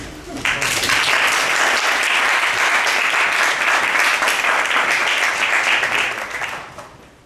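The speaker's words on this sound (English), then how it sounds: "A big applause, please." A sustained round of loud audience applause at a design talk, many hands clapping steadily for several seconds before fading out.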